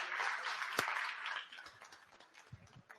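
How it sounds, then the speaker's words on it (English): Meeting audience at an AGM session giving a round of applause for a speaker, fairly faint clapping that fades after about a second and a half, leaving a few scattered claps and a sharp knock. "I think he deserves a round of applause."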